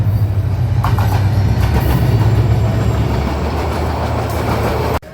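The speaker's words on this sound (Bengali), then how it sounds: "কিছুক্ষণ পর নন স্টপ ট্রেন আরেকটি এসে পৌঁছল" A non-stop train pulls into Feni railway junction station, a loud, steady rumble of wheels and carriages rolling past close by for the whole stretch, with no voices.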